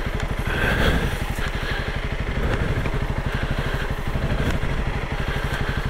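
Honda CRF 300L Rally, a 2021 dual-sport motorcycle, idling and puttering loudly up close with a steady rapid thump while maneuvering to turn around on a muddy river bar trail.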